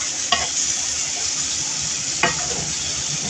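Crab with tomato and mushrooms is stirred in a sizzling pan: a steady, loud frying hiss runs throughout, broken by two sharp clacks of the utensil against the pan.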